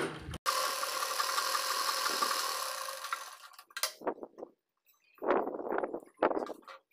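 Sewing machine running a long continuous double stitch on a dhoti salwar, a steady loud motor whir that stops, followed by a few short bursts of handling noise and brief movements.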